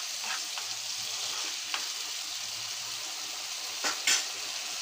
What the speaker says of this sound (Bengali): মোটামুটি আমার মরিচটা কষানো হয়ে গেছে